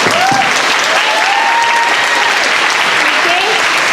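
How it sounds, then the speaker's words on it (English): Applause from an audience at a school Christmas concert fills the room, dense and loud without a break, with a few cheers and whoops rising through it. "I just want to give them a massive big round of applause"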